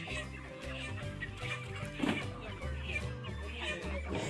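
Broiler chickens cluck in a dense flock as they are loaded onto a truck at a poultry farm, a continuous busy chorus of overlapping calls with loud, steady intensity and a brief louder burst midway.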